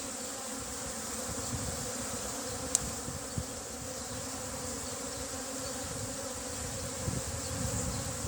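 Honeybees at an opened beehive give a steady, dense buzz close by, with a faint sharp click partway through and no voices.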